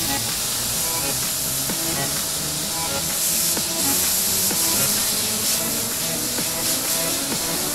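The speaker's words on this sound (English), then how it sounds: "I'm gonna figure out what's going on with the airbrush." An airbrush sprays paint onto a skateboard, giving a continuous close hiss of air and paint that holds steady throughout with slight surges.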